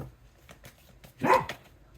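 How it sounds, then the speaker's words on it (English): A 12-year-old black Labrador gives one sharp, close bark in a quiet room, with a few faint soft noises before it. "That's my 12-year-old black lab."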